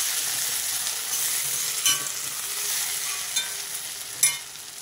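Sliced onions fry in oil in a pan, a continuous close, bright sizzle with occasional crackles and a few sharp pops, with no voices over it.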